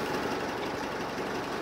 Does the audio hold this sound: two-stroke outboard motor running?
yes